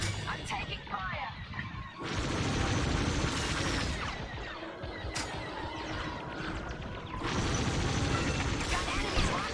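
A starfighter in the Star Wars: Squadrons space combat game takes enemy fire: a loud, dense barrage of blaster impacts, crashing hits and mechanical clatter, with heavier surges after the second second and again near the end.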